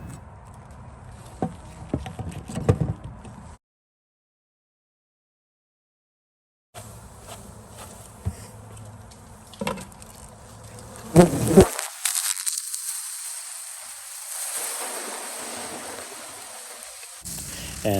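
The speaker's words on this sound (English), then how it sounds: "And that is what the inside of the hive looks like when you shake in the bees." Honeybees are shaken into a new hive, making a dense, close swarm buzz broken by knocks and thumps. A brief silent gap interrupts it, and then a louder, steady hum of bees follows.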